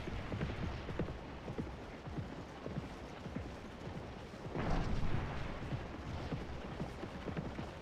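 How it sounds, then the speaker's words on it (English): Cannon fire in the Scourge of War video game, a continuous rumble of booming artillery blasts with dense percussive crackle, swelling louder around the middle. "Taking some nasty cannon fire down here, it looks like."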